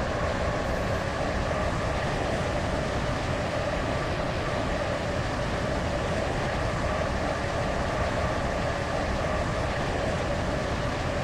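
Steady rumbling rail noise of a video game train running along the tracks, a continuous dense roar with no voices, close and constant throughout.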